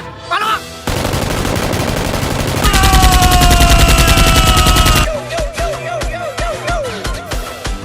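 Toy Nerf-style X-Shot guns fire in loud, rapid bursts close by while shooting at a monster, with dense rattling volleys and voices shouting between shots.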